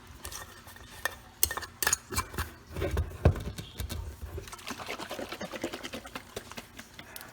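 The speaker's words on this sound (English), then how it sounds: "give it a good shake, to incorporate it all in there" A jar of fermented pepper sauce in salty brine being shaken, giving a run of uneven rattling, sloshing and clinking bursts that come close and fairly loud, with a sharper knock near the middle and steady jostling afterward.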